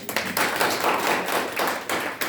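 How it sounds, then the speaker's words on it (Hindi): An audience gives a burst of enthusiastic clapping at a leadership development program, dense and loud, with several sharper slaps standing out over roughly two seconds and no talking. "एक बार जोरदार तालियां इसके लिए"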